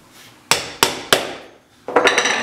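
Three sharp, evenly spaced hammer blows drive a nail into a wooden beehive frame, followed after a short pause by a quicker cluster of lighter taps, all loud and close with no talking.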